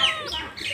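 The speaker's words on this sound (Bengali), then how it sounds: "যে ব্রাহ্মা আমেরিকান, আমার আম্মুর মুরগি" Brahma chicken, an American breed, giving soft clucks and a brief high call, close by and fairly faint, with no talking.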